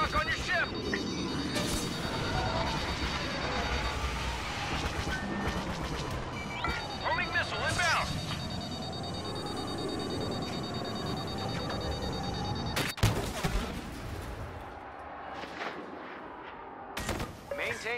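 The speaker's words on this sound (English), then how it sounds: "Homing missile lock on your ship!" Repeating electronic lock-on warning tones from a homing missile in Star Wars Battlefront, beeping through steady starfighter combat noise with blasts and a sharp burst near the end, under in-game radio voices.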